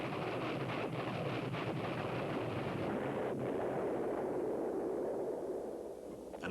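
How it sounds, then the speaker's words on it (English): A cruise missile's land-attack warhead scattering multiple bomblets that detonate, heard as a continuous roaring, rumbling blast wash with crackling debris, loud and sustained before easing slightly at the end. "The tactical land attack version can carry various warheads. This is distributing multiple bomblets."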